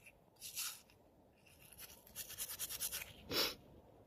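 A small brush scrubs a metal button dug up while metal detecting, giving short soft bristly strokes, including a quick run of repeated brushes and a louder final stroke, with no talk.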